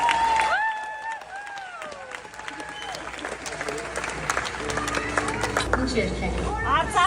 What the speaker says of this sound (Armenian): Ծափարություններով